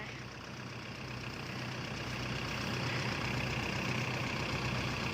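A Kubota L4708 tractor stuck in a muddy rice field idles with a steady, low diesel drone and a faint higher whine, swelling slightly louder after the first couple of seconds; no voices.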